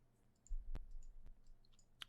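Computer mouse clicks in render settings software: two or three faint, sharp clicks at irregular spacing, close and quiet over a low hum.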